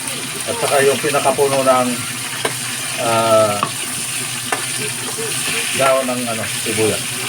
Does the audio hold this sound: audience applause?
no